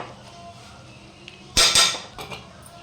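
Leftover rice is tipped into a pot of raw prawn and keema biryani with a sharp metal clatter and scrape halfway through, followed by a few softer knocks against the pot.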